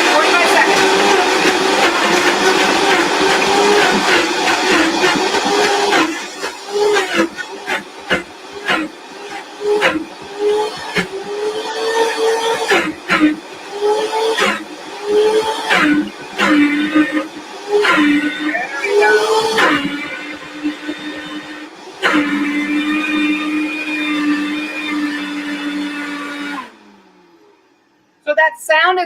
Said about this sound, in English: take only about 45 seconds in your Vitamix because it goes 250 miles an hour